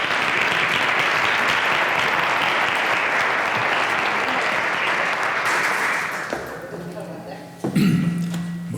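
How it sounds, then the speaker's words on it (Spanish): An audience at a rosé wine congress gives a loud, sustained round of applause to welcome a speaker; the clapping holds strong, then tapers off and fades near the end as a brief knock sounds. "Le damos la bienvenida también con un fuerte aplauso."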